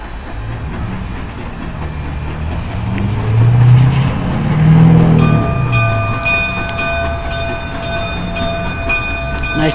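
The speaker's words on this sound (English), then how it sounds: "Here comes the train." A train rumbles closer, its low roar swelling to a peak at mid-clip, then steady tonal squeals and hums as the cars pass nearby.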